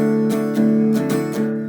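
An acoustic-style guitar strums through a short chord progression, a few ringing strokes close up with sustained chords between them, no voice.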